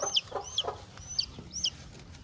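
A naked neck hen clucks and squawks in short, sharp bursts, several chirping calls close by over a quiet background.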